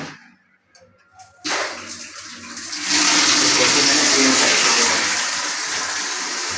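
Water from the supply tap at home rushes in after a short quiet start, building into a loud, steady hiss that goes on for several seconds, with no speech over it.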